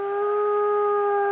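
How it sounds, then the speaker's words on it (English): A wild wolf howls on a trail camera in the Voyageurs area of Minnesota, a single sustained, steady tonal howl with strong harmonics, loud and close, lasting the whole moment with no talk. "a recent howl caught on camera was described as being as wild as they come"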